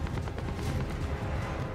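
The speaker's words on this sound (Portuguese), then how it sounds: "Olha lá, no teto dando tiro." Dense, continuous gunfire rattles without pause in a Call of Duty: Modern Warfare match, with rapid overlapping shots blurring into a constant roar.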